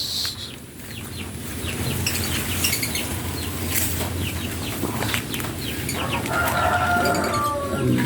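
Rhode Island chickens at feeding time cluck busily, with rooster crowing and some wing flapping, all close and continuous over a farmyard background.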